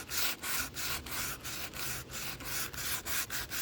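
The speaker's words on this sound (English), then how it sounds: "take this sandpaper" Sandpaper roughens the edges and top of a bonsai pot in steady back-and-forth strokes, about a dozen rhythmic passes that sound close and scratchy, with no talking.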